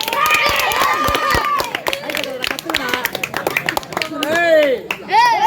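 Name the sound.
audience clapping in a clapping contest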